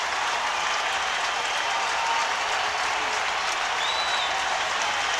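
A stadium crowd at a Dodgers vs Giants baseball game applauds and cheers in a steady, dense roar that holds at full strength throughout, with no individual voices standing out.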